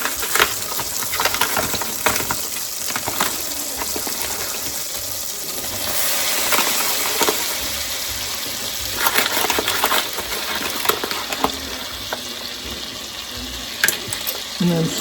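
Onions frying in a pot for onion soup being stirred, a loud continuous sizzle with scraping, clinking utensil strokes against the pot, no talking.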